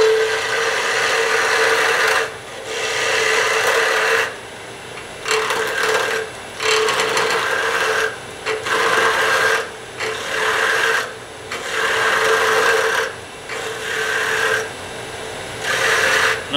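Wood turning on a lathe, a gouge scraping and rasping against spinning wood in steady, close bursts separated by short pauses, with no talk.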